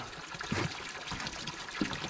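Spring water trickles and dribbles quietly nearby, a faint, continuous babble with a few small splashes, low in level and without voices.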